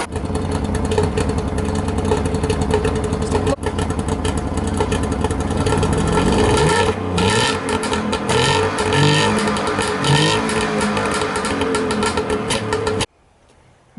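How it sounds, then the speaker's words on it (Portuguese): 1967 DKW Vemaguete engine idling unevenly at close range, a rough, choppy putter with irregular pops from the carburetor, running for about thirteen seconds before cutting off abruptly. "deu para perceber que a marcha lenta está bastante instável"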